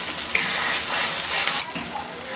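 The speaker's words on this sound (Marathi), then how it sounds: "वाटण आहे ना त्याला तेल सुटेपर्यंत आपल्याला चांगलं तळून घ्यायचे." Ground masala paste frying in oil in a pan for a Maharashtrian dish, a soft, steady sizzle with a couple of sharp clinks of a utensil against the pan.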